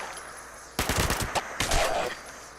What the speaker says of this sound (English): I decided to sacrifice my 10mm pistol for this bad boy, the submachine gun.